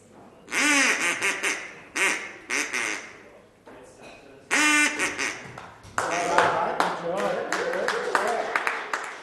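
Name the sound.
child imitating duck call quack at competition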